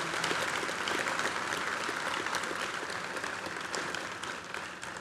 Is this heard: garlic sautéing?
no